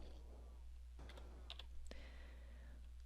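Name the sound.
typing on a computer keyboard into a spreadsheet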